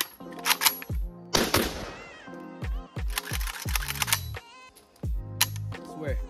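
An AK rifle fires a series of sharp, loud gunshots in an irregular rhythm, each crack close and punchy with a short ringing decay, and gaps of quieter handling noise between shots.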